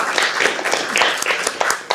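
An audience at a policy event on reform priorities for Ukraine claps, with scattered individual hand claps forming light applause for about two seconds.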